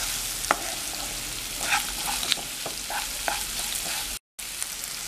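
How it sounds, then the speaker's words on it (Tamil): Onions sauté in a pan for Indian-style coconut fried rice, a steady soft sizzle with several distinct scrapes and clicks of a stirring spoon, no talking. "வெங்காயம் வதங்கியாச்சு"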